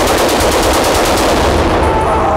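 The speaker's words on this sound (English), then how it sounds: "And my favorite, a bad boy machine gun." A machine gun firing in a long continuous burst at a shooting range, very loud and dense, each rapid shot blurring into a steady roar.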